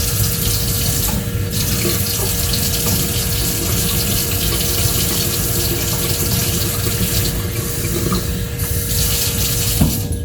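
Kitchen tap water runs steadily into a measuring cup while filling cups for canning dill pickles from cucumbers, a continuous close hiss that lasts throughout with no talk.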